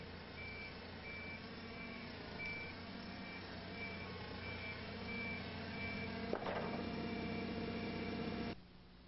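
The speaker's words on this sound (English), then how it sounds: "Here the forklift is traveling slower than it did in the actual mishap." A forklift rolls slowly in a workplace, its reversing alarm beeping at a steady regular pace over a continuous engine drone, with a single sharp knock late in the clip before the engine noise drops away.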